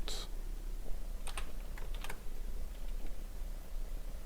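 Fingers type a password on a computer keyboard, making a few short bursts of close, light key clicks over a quiet room hum.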